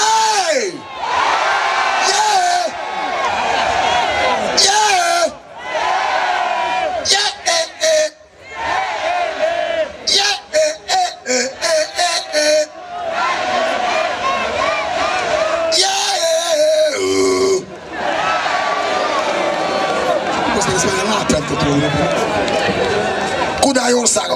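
Concert audience at a rock show shouting a single-syllable word in unison on request, loud crowd yells in repeated bursts with short pauses between, mixed with cheering and a singer's voice over the band.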